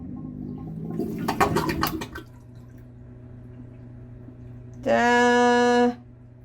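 A Galley Maid marine toilet pump on a 1981 70-foot Hatteras yacht flushes with a gurgling, sucking rush of water, then a quiet pause before a loud, steady motor whine starts and stops, close by with no talk.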